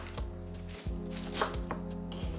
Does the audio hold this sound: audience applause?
no